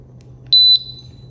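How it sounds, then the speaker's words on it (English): A SENKO SGT portable gas detector gives a single sustained electronic beep of about a quarter second on power-up, clear and close over a faint low background hum. "Let's turn on the detector and go through the"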